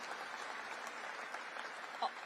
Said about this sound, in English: Yes, you can applaud for 90th.